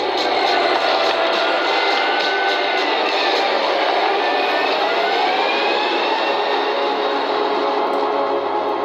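A 68.5-ton tank drives cross country, its turbine engine giving a loud, steady high-pitched whine with a rising and falling tone, close and continuous, with no voices.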